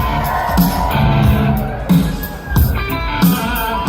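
A convention crowd at a Walker Stalker con Q&A in Chicago claps and cheers, with scattered whoops and shouts rising in bursts over a steady hum of audience noise.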